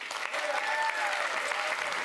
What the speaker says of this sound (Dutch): Geef ze een warm applaus, de lijsttrekkers die in de eerste ronde meedoen.